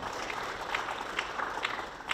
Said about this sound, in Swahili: Tumpige makofi mengi sana bungeni.